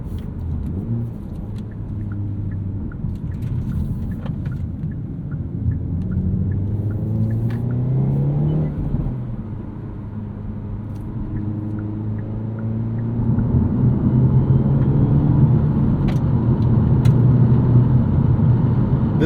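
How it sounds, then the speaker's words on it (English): A 2024 Hyundai Elantra N with a 6-speed manual cruises on a highway. Steady road rumble and wind noise fill the cabin, growing louder toward the end, with no talking. "you can hear there is quite a bit of road intrusion and wind intrusion"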